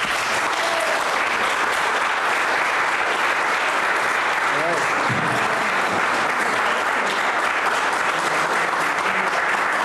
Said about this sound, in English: now let's give a round of applause to our guest lecturer